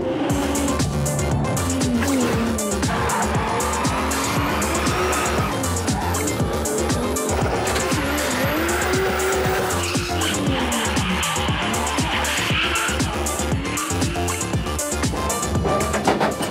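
A Lada Vesta converted to rear-wheel drive skids with sustained tire squeal and a loud, revving engine that rises and falls in pitch. The sliding and screeching go on continuously throughout, close by.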